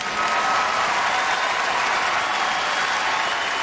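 A large stadium crowd at the 2005 drum corps finals applauds and cheers as Phantom Regiment receives the bronze medal, a dense, loud, unbroken roar of clapping sustained throughout with no voices rising above it.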